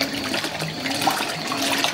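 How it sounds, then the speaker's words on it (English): Water churns and swirls steadily inside the drum of a Fisher & Paykel top-load washing machine running a normal load, a continuous close rushing wash with no speech. "how all the water is moving into the center."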